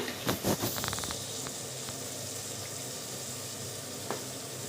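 Ginger paste frying in a covered pot for veg biryani makes a soft, even sizzle with a few sharp clicks near the start.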